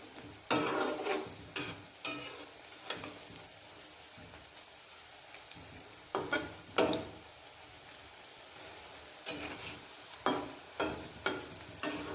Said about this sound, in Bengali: এইভাবে আমি সবগুলো চিকেন ভেজে নেব।